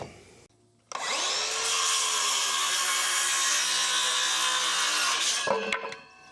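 A power saw fitted with an older original DeWalt blade cuts through sawmill lumber: a sharp start, then a loud, steady whining cut for about four and a half seconds before it winds down, with a few knocks after.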